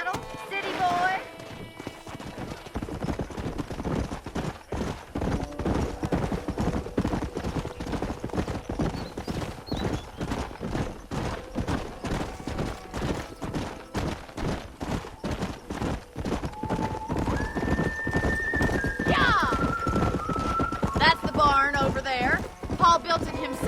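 Rhythmic hoofbeats of a horse in the Red Dead Redemption video game, steady and close throughout with an occasional whinny, while characters talk over it and music rises near the end.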